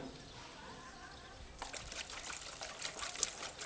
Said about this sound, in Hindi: ऐसे करके ना पत्तों को भी नहलाया करो